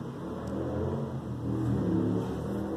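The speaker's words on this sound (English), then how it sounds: "a loud car that passed" A loud car passes outside, its engine rumbling and revving steadily through the whole stretch, swelling slightly in the middle, with no talk over it.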